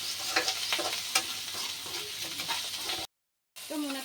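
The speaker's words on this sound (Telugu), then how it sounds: "మునక్కాయలు కూడా వేసేసి లైట్గా ఫ్రై చేసుకోవాలి" Moringa drumstick pieces and onions fry in a pan with a close, steady sizzle, broken by occasional scraping stirs, a brief total dropout, then more frying.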